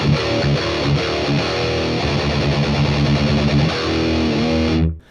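Loud, saturated electric guitar lead through a BOSS Katana MK2 amp with 8 kHz boosted, giving a fizzy, sizzling top end, playing continuously for about five seconds before cutting off abruptly.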